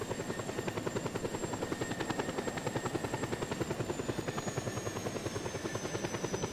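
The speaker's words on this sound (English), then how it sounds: "But I see a helicopter." A helicopter in the video game Just Cause 2 drones with a fast, steady rotor chop, even and continuous with no talk over it.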